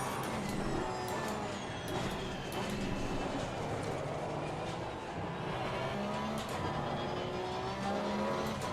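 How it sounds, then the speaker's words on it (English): A Porsche race car in Assetto Corsa Competizione at full throttle, a steady high engine whine with shifting tonal lines holding throughout, fairly quiet and continuous with no pauses. "I love with this Porsche how I can just mash the throttle like that"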